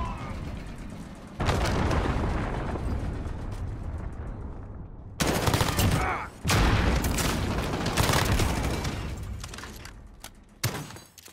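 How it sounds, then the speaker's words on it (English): Enemy cruise missile strike in the video game CDM, heard as a series of heavy booming blasts with sudden loud onsets, each rumbling on and fading before the next hits, with gunfire and battle noise mixed in. "Enemy cruise missile incoming."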